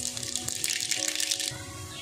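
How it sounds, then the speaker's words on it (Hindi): Mustard seeds dropped into hot oil for tempering hiss and sputter in dense crackling bursts for about a second and a half, then settle into a quieter simmer. "तेल हमारा गर्म हो चुका है, तो हम राई माश डाल रहे हैं इसमें"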